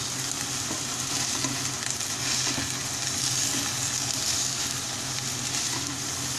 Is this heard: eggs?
yes